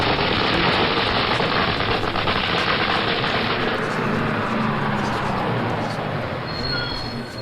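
Firecrackers at a celebration burst in a dense, continuous crackling barrage, loud and close. The rapid popping blends into a hiss-like roar and eases only slightly toward the end.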